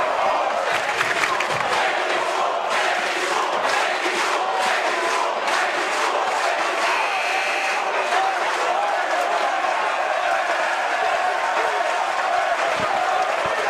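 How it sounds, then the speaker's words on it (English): Loud, dense crowd noise fills a high school basketball gym during a Xavier versus Regis varsity game, with rival student sections chanting back and forth continuously throughout, steady and unbroken. "Dueling chants again electrify the crowd on 16th."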